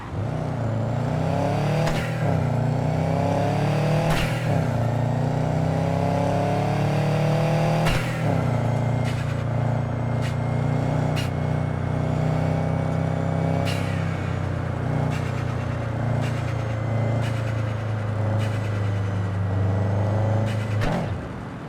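A car engine in Cyberpunk 2077 idles steadily and loudly throughout, with a few revs and sharp transient clunks layered over the continuous hum.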